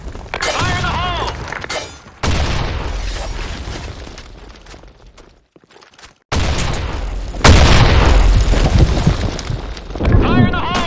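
Grenade blasts in a video game on a desert sandstorm map, with loud booming bursts and shattering debris separated by brief quiet gaps, while voices shout over the action.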